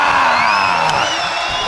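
A large arena crowd at the Dota 2 Lima Major grand final cheers and whoops loudly and continuously, a dense roar of voices throughout.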